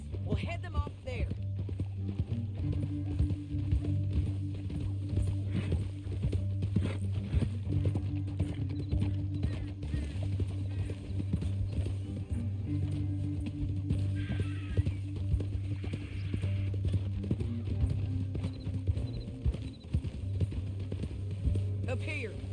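Horse hooves clip-clop steadily in the Red Dead Redemption western game, an even rhythmic trot running throughout under a low sustained musical drone.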